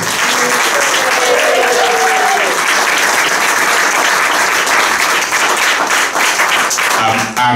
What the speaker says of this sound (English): Can we get an applause for Rob and Matt,